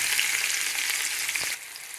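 Tomatoes fry in a pan for a spinach curry, a dense, even sizzle that drops noticeably in loudness about halfway through after a brief low thump.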